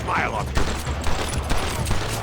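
Gunfire in a Red Dead Redemption shootout, several close shots cracking over a steady rumble of game ambience, with someone talking over them.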